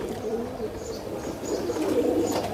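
Pigeons of a long-tailed fancy breed coo softly and repeatedly nearby, low throaty burbling calls overlapping with faint chirps in the background.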